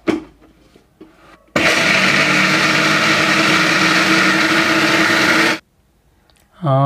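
A kitchen mixer grinder churns soaked urad dal with water into idli batter, a loud, steady, close whirring roar lasting about four seconds before cutting off, with brief voices before and after.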